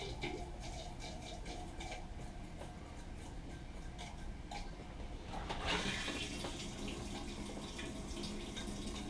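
Water runs steadily into a newly installed RV toilet during de-winterizing, a constant hiss with faint ticking, then a brighter, stronger rush of flow near the end.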